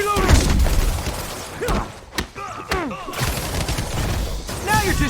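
Bursts of gunfire crack and thud in a Marvel's Spider-Man fight, irregular shots and impacts scattered over several seconds, mixed with shouting voices and pitched electronic effects.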